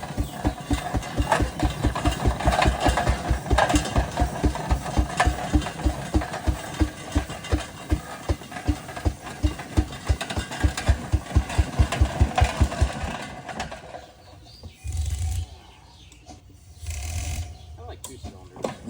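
A half-scale Advance steam traction engine with two cylinders chugs in a steady, rapid rhythm of loud, close exhaust beats for about thirteen seconds, then slows and fades into quieter mechanical clanks and hissing.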